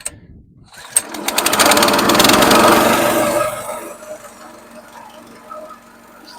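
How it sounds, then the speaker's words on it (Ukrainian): A branch chipper's 7-horsepower engine is pulled and fires up cold, roaring loud and close for a couple of seconds before settling into a lower, rougher run. "апарат заводиться, я його не грів, не прогрівав абсолютно нічого"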